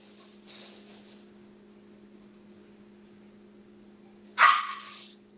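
Dogs barking off to the side in a quiet indoor space: a short burst near the start, then one louder sharp bark toward the end, over a steady electrical hum.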